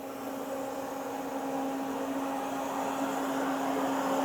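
A Citizen K16EVIIP CNC Swiss lathe runs with its main spindle at 1,000 rpm, giving a steady, continuous mechanical hum with a constant tonal whine and even loudness throughout.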